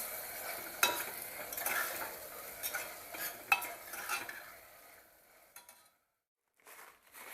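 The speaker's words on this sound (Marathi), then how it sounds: "गॅस बारीक करूनच घालायचं दही परतून घ्यायचं" Yogurt being sautéed in a pan over low gas for chicken pulao, with steady stirring and sizzling, a few sharp utensil clicks against the pan, then a brief pause before stirring resumes.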